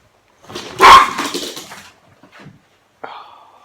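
Dogs bark close by, one sharp loud bark followed by a few softer yips and whines, then a brief quiet and a final short yelp.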